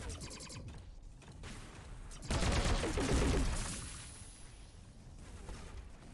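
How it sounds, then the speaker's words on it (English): Mortar and weapon fire in the robot combat game Bot Machines: rapid mechanical firing bursts, then a louder heavy blast surge that swells for about two seconds before tapering into quieter clattering. "Wonder what this mortar does."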